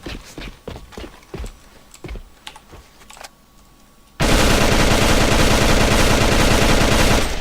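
An M16A2 rifle in the AVA game fires a string of separate single shots, then switches to a loud, continuous automatic burst that holds to the end.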